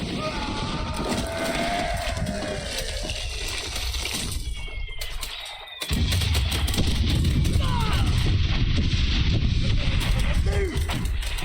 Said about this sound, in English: I'm gonna have to wait for the bullets to stop going from that machine gun position